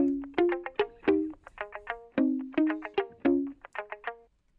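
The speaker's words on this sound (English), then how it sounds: "So plucked again, but with more melody." A plucked guitar sample carrying a melody, a quick run of picked notes rising and falling in a repeating pattern, each pluck decaying fast, close and dry with no speech.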